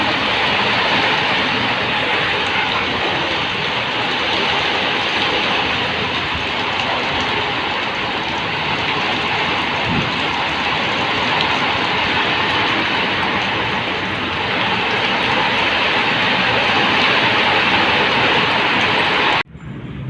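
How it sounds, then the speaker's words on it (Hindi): Heavy rain pours down in a village, a dense, steady hiss of downpour close by and filling the whole scene for about twenty seconds without pause, cutting off abruptly at the very end. "देखो भैया अब आ गई है बढ़िया वाली बारिश, जब तो नहीं थी, अब ज्यादा होगी बारिश।"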